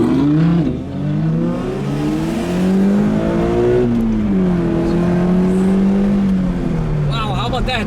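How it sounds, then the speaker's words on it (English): At a seaside car-club breakfast run, a parked car's engine is revved several times close by, its pitch climbing and falling in long sweeps and ending in a sharper blip. "Maybe he does a few revs for us."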